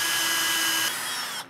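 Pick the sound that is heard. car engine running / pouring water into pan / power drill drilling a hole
power drill drilling a hole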